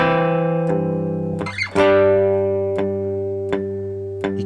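Cigar box guitar with harmonic chords ringing steadily over low notes, punctuated by sharp strums and a scratchy attack, the tones sustaining and slowly fading, close and clear with no talking.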